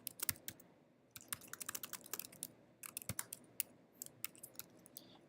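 Rapid, irregular clicking from fingers typing on a computer keyboard, close and clear, in short bursts with brief pauses and no voices.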